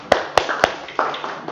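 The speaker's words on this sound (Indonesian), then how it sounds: "Kita beri tepuk tangan untuk mereka." A group in a classroom session applauds a presenting group. A few sharp, separate claps are followed by a short, thin patter of clapping that fades out quickly.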